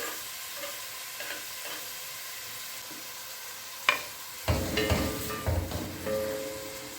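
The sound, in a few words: onions frying in oil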